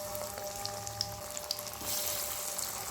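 Masala vada frying in hot oil, a steady bubbling sizzle that swells louder toward the end, with a few faint clinks and no talking.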